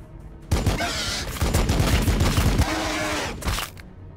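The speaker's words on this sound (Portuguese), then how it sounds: "Vou dar um tiro aqui." Warhammer 40k Battlesector gunfire: a dense, continuous crackle of rapid shots and booms starts abruptly, holds loud for about three seconds and then cuts off, with no speech over it.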